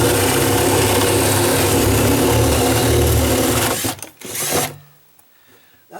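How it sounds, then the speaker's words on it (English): Power drill boring a hole in dry-rotted deck wood, a loud steady high-revving whine that runs continuously for about four seconds, then cuts out and spins down with a brief rev. "I could probably drill another hole over here."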